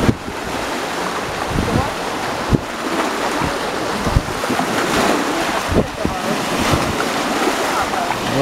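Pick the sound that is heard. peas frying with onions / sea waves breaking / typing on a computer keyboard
sea waves breaking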